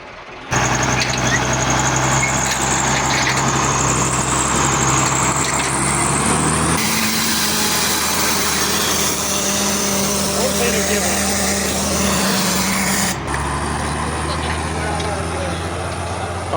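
Tractor engine with an AC cab running steadily at close range, a loud continuous drone with a slight shift in pitch partway through. Voices can be heard over it.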